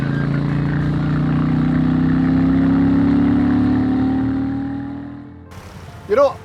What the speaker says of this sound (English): the exhaust note through those dual pea shooter pipes is pleasant but certainly not overwhelming